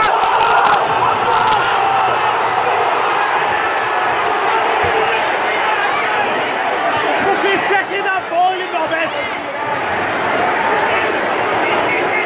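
Football stadium crowd at an Everton vs Burnley match roaring and shouting in a dense, continuous wall of noise, with a few sharp louder outbursts near the start and a steady swell through deep injury time.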